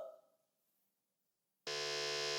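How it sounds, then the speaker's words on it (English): After a quiet pause, a loud, sustained electronic quiz-show buzzer blares suddenly during a school quiz competition and holds steady to the end. "Yes, we've got one team on the buzzer"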